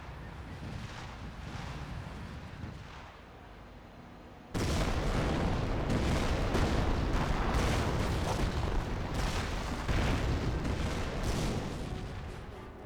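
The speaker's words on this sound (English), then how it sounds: "Artillery now running on in." An artillery barrage in the video game Company of Heroes 1, a dense rumbling roar of shelling that swells abruptly into a heavier, sustained stream of booms and crackles before tapering slightly.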